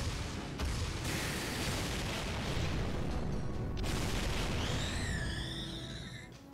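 A barrage of impacts in Fate/Grand Order, fighting a creature on ice: dense, rumbling blasts pound continuously, with a sharp burst near the start, a whooshing streak near the end and a fading tail.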